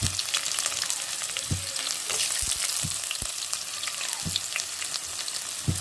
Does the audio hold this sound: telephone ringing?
no